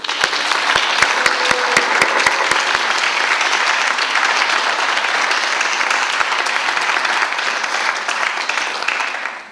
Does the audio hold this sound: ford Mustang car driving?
no